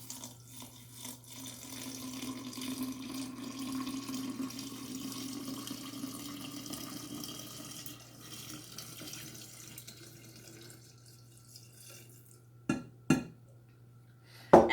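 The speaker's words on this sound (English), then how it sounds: "So all we're going to do now is carefully pour this mixture into the jar." Queen Anne's lace soda mixture is poured carefully into a glass jar as a soft, steady trickle for about ten seconds, followed by a few sharp glassy clinks near the end.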